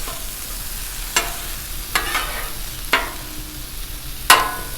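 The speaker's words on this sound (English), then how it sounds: "Mix up these onions a little bit." Chunks of onion and serrano peppers sizzling on a hot Blackstone griddle, a soft steady hiss punctuated by four sharp spatula scrapes and taps as they are mixed.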